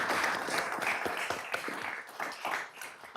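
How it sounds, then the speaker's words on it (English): An audience at a community college district board of trustees meeting claps together in a soft, somewhat distant patter of many hands that thins and tapers over three seconds. "I want to give them a round of applause"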